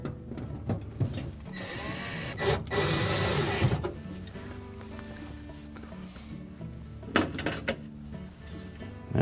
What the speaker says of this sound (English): Install the remaining screws.